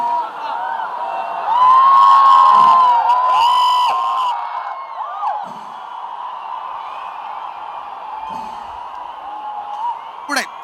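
A large crowd roars and shouts at a temple procession as the elephant Guruvayur Nandan carries the Paramekkavu Bhagavathi idol, with sustained cheering, whoops and whistles swelling early then continuing steadily.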